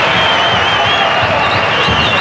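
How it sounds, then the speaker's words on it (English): Rugby league stadium crowd roaring continuously in a broad, dense wash of noise, loud and steady throughout with no clear breaks. "Well, listen to the crowd."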